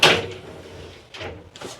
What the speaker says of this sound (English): and you've got a glass sliding door